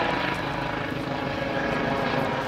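A helicopter passes overhead near a general contractor's work site. Its steady rotor and engine roar stays loud and constant throughout, with no talking.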